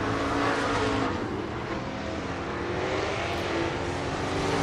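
IMCA race cars roar around the Southern Raceway track in Milton, Florida, a dense, sustained engine drone that stays loud and steady throughout.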